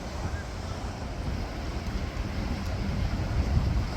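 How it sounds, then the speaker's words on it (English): Blustery wind in Chicago buffets the microphone with a broad, rumbling roar, steady and building slightly, with faint choppy water noise beneath. "It's a bit windy today."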